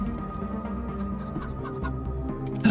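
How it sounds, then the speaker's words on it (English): A cyborg chicken in the game Wasteland 3 gives a few soft clucks over a low ambient game hum, ending in a brief louder burst. "I'm glad I heard the cluck, because I said, let's come back and not forget to get this cyborg chicken."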